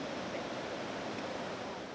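Running water rushes through Kyambura gorge in a game park as a steady, even broadband roar with no breaks, fairly soft and continuous.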